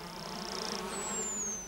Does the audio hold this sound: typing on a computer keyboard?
no